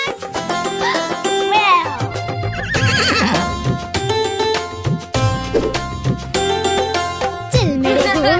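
Loud horse neighs and whinnies ring out over a busy children's rhyme track with music throughout, several rising and falling calls spread across the song.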